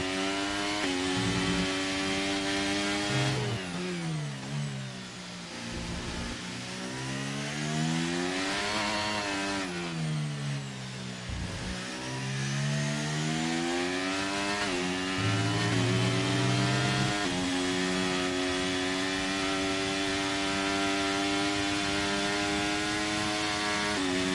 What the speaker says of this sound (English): I'm even going to mute and just let you listen to the engine sounds for a minute.